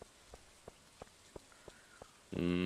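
Green rain in the farming video game Stardew Valley falls as a run of soft, evenly spaced droplet taps, faint and quiet, before a louder tonal game sound cuts in at the end.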